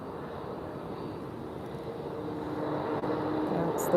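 A TAP Air Portugal Embraer jet comes in to land at Lisbon Airport, a steady distant engine roar that swells slightly as it nears, with no talk over it.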